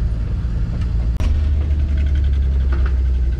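A Volkswagen combi van's engine rumbles steadily nearby like a tractor, a low continuous drone with a brief break about a third of the way in, then the same throbbing idle resumes.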